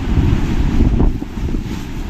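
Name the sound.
heavy rain and wind on balcony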